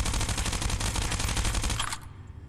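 Sustained rapid gunfire from the game Gunheart, a dense automatic burst lasting about two seconds and then cutting off abruptly, with no talking over it.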